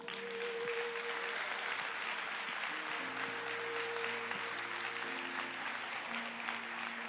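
A church congregation applauds at the close of a service, a continuous broad clapping wash sustained for several seconds while sustained keyboard or organ tones hold underneath.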